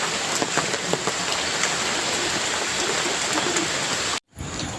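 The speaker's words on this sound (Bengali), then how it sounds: "রাত্রে দশটা বারোটার থেকে বৃষ্টি পড়া শুরু হয়েছে আর এখনো পর্যন্ত বৃষ্টি পড়ছে" Heavy, continuous rain pouring down, a dense even hiss with scattered drop patter, briefly cutting out near the end.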